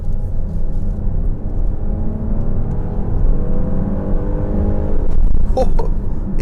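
A 2025 Kia Carnival engine pulls hard under sharp throttle, a steady rising drone heard from inside the cabin, building smoothly for several seconds before a few brief clicks and rattles near the end.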